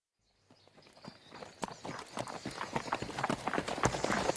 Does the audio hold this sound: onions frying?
no